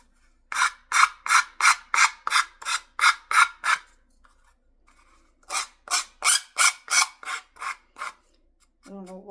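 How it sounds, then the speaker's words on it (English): A nail file rasps back and forth across a handmade Christmas ornament in close, even strokes: about eight scrapes, a short pause, then roughly seven more, all alone without talk. "I don't know why the nail file wants to make that scraping noise."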